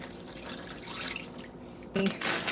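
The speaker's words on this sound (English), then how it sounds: "Put them in the bag, and I'm going to pour this marinade all over." Marinade poured over rinsed, dried chicken pieces inside a Ziploc bag, a soft continuous liquid splash and trickle, close and quiet, rising slightly toward the end.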